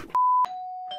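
A two-tone electronic doorbell chime rings clearly: a high sustained first note, then a slightly lower second tone that lingers and fades, close and alone.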